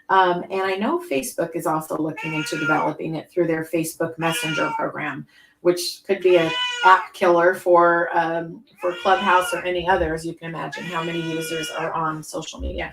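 A pet cat cries and meows in the background indoors while a person talks steadily over it, the animal sounds mostly buried under the speech.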